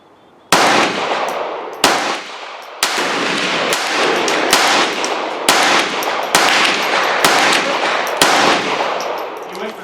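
Rapid gunfire from a .22 LR rifle at an outdoor range, roughly a dozen sharp, loud shots in quick uneven succession, each cracking over a lingering wash of ringing noise.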